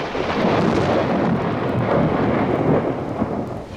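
A tree splitting clean in half as if struck by lightning in a Spider-Man audio drama, heard as a loud, sustained thunderous crash and roar filling the whole moment, with no voices over it.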